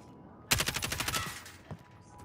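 Sniper gunfire in the video game Call of Duty: Modern Warfare: a loud burst of rapid shots in quick succession that trails off, followed by one more isolated crack.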